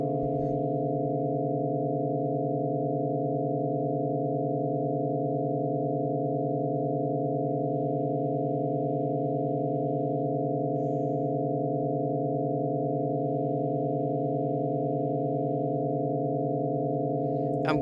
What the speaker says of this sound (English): I'm going to crank the tones a little bit louder.